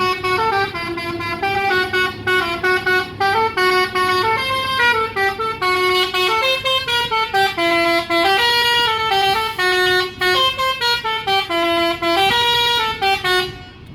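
A PO NPM P66 Sultan Class intercity bus plays its telolet horn, a loud, close melodic multi-tone tune with rapidly changing pitches sounding continuously for many seconds.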